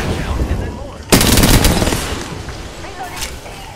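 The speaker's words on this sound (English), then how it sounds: "Shoot Revenant!" Automatic gunfire in the Apex Legends video game, a loud rapid burst lasting nearly a second, then a shorter burst near the end over background game noise.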